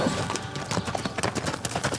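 Wild Mustang horses move about, their hooves thudding in quick irregular clip-clop beats, close and fairly loud, with a faint whinny possible in the mix.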